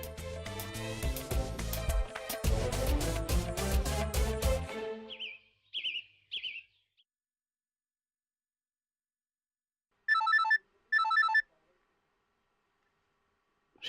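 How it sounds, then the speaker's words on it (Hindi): A phone rings in a scene from a Hindi TV serial: two short electronic ring bursts sound clearly after background music fades into near silence. "ऋषि का फोन।"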